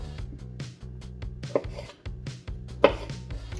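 Knife quartering cherry tomatoes on a cutting board for ceviche, a quick series of close, sharp chopping taps with a couple of louder knocks and no talk.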